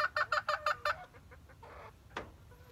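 Five-month-old pullets cluck in a quick burst of five sharp, evenly spaced calls, followed by softer scattered clucks and a brief rustle, close by.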